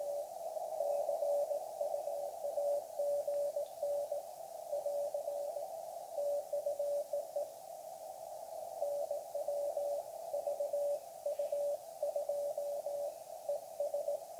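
A CW Morse code signal received on an sBitx v3 radio, a steady stream of faint, clean beeping tones in a dot-dash rhythm over hissy background noise, with no voices.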